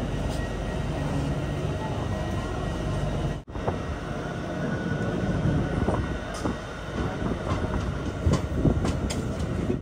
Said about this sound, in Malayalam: ഇവിടുന്ന് വണ്ടി എടുത്തു.